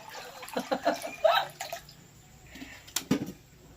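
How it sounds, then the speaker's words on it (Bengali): Water poured into a wok set on the stove for boiling duck eggs, heard up close as a few short splashing and dripping bursts against quiet background. "তার জন্য কড়াই বসিয়ে দিলাম, দিয়েছি জল"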